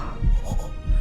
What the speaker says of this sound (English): We can hear the heartbeats.